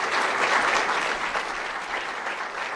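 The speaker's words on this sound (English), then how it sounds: "We should give them a round of applause here in the city of Seattle." An audience at a Seattle May Day rally on women and equality applauds, a dense, steady wash of clapping from many hands that holds throughout with no talk over it.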